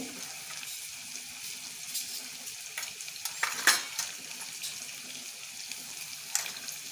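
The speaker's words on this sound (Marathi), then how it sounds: "आणि कढीपत्ता सगळं भाजून घ्यायचं" Dried red chillies, cumin seeds and curry leaves dry-roasting in a pan, giving a steady soft crackle and hiss with a few sharper clinks of stirring, close and moderately quiet with no voices.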